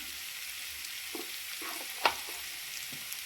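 Chicken kofta masala with chili is stirred in a pan, giving a low background sizzle broken by a few soft scrapes and one sharp clink of a spoon.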